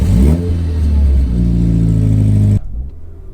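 Mini Cooper S F55 push-button start, the engine catching with a loud burst and rising rev before settling, then cutting off.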